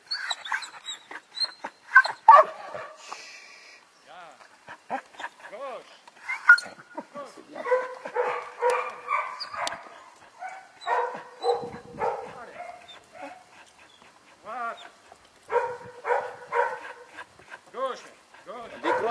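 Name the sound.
dog barking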